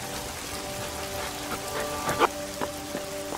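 Heavy rain falls steadily in a dense, even hiss, with a few sharper drips and spatters standing out near the end; no voices.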